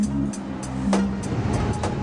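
A Citroën C6, the French maker's flagship saloon, drives along with a steady low engine and road hum, a continuous close drone with faint ticks over it and no talk.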